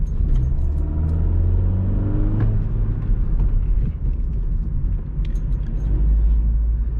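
Vauxhall Corsa fitted with a performance air filter pulling hard in second gear, a loud steady engine drone with deep low rumble building as it accelerates, heard from inside the car.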